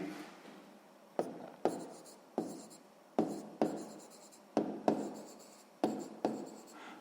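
Handwriting with a pen or pencil on paper during a math exercise, quiet close scratching strokes with sharp taps as the tip meets the page, in an irregular rhythm.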